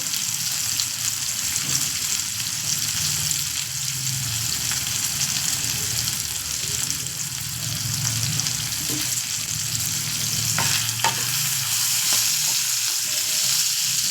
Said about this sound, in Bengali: গোটা জিরে দিলাম একটু একটা শুকনো লঙ্কা দিলাম